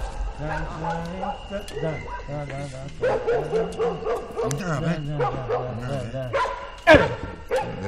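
Several dogs bark and yip repeatedly in an excited, overlapping chorus close by, with people talking over them.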